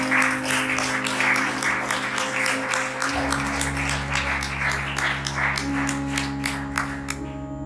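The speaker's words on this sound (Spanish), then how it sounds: "¿Cuántos le pueden dar un aplauso al Señor por eso?" A church congregation clapping in a fairly quick, even rhythm over sustained keyboard chords, moderately loud and steady for several seconds before thinning out at the end.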